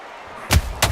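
Two heavy punches landing in the boxing video game Undisputed, Muhammad Ali against Riddick Bowe, each a sharp, booming thud about a third of a second apart, loud and close with no talking.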